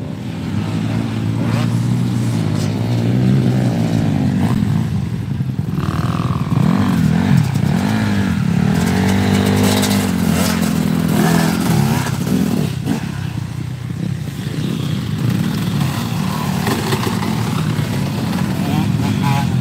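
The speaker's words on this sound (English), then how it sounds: "That girl on that YZ250 is actually pretty fast." A Yamaha YZ250 two-stroke dirt bike rides at a motocross track, its engine droning and revving steadily and loudly for the whole stretch, with voices partly over it.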